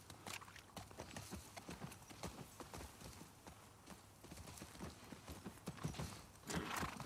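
Horse hooves clip-clop in a steady, quiet walking rhythm while riding through the video game The Last of Us Part 2, with faint ambient sounds under the hoofbeats.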